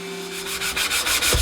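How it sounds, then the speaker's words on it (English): Rhythmic back-and-forth sanding of a wood piece for a locomotive storage box, close and clear, strokes quickening toward the end with a soft knock. "Sand it back, and that should give me a nice solid piece of wood"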